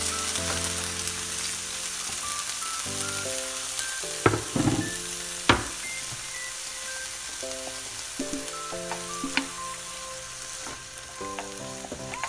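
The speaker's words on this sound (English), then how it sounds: "we're gonna allow these to saute a bit." Sweet peppers, onions and tomatoes sauté in hot oil over a medium burner for Jamaican canned mackerel, crackling steadily with occasional stirring clicks while background music plays softly underneath.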